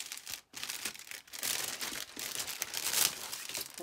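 A cellophane bag with a sticker crinkles and rustles continuously as it is handled and opened, close and fairly loud, with short pauses between bursts.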